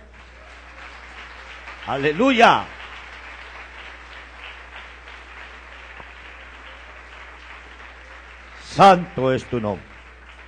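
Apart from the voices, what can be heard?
applause in church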